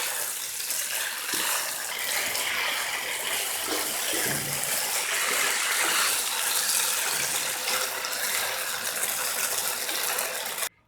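Chicken chow mein with green onion is stir-fried over a high flame, giving a loud, steady sizzle with bursts of scraping and tossing as the noodles are mixed.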